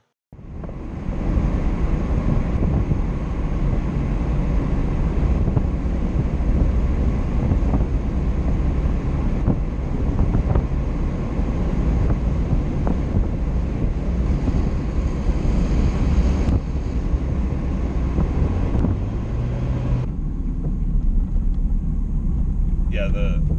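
A 2001 Mazda Miata built as a Leroy Engineering project car with a manual brake booster drives steadily on the road, giving a continuous engine and road drone with wind rush throughout, shifting slightly near the end.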